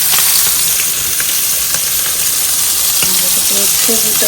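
Pabda fish and other fish fry together in a pan, giving a loud, dense, continuous hiss of sizzling oil throughout, with faint clinks near the end.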